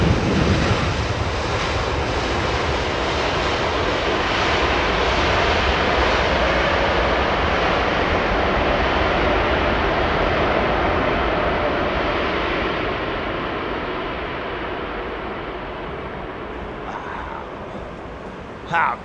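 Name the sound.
turboprop airliner landing on runway 27R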